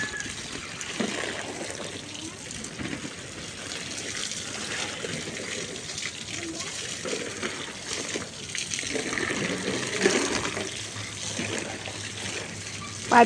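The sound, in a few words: watering garden plants with a hose pipe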